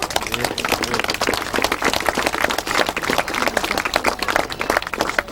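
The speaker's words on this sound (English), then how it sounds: "Round of applause." Audience applause at a 2003 grasstrack race meeting, dense sustained clapping from a crowd with faint voices underneath, holding steady throughout.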